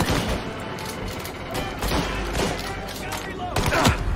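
Gunfire in a video game, including a sniper, comes as a busy barrage of sharp shots and booms close in the mix, with a player talking over the combat.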